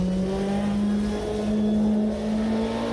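A Lola V8 historic endurance race car in the Automobilista 2 racing game, lapping Road Atlanta, holds a loud, steady engine drone with a slight swell in revs, close and alone.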